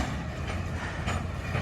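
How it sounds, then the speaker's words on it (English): Freight cars shoved by two old CSX Geep locomotives at an interchange in Decatur, Alabama, a steady close rumble with faint wheel clatter and the low drone of heavy engines, no voices. "he's just going to shove all these cars back into the yard with the conductor riding."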